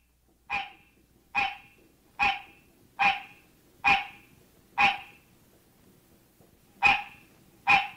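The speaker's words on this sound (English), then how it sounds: "This is a mating call of a hybrid resulting from the cross-mating of the green tree frog and the barking tree" A hybrid of green tree frog and barking tree frog gives its mating call as a series of eight sharp, evenly spaced barking notes, each clear and fairly near, with a gap before the last two.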